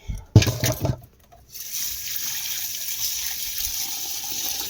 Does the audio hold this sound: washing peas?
yes